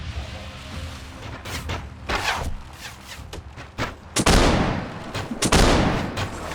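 Gunfire from troops in the video game Warsword during a siege assault, bursts of sharp shots and booms scattered irregularly, growing denser and louder toward the end.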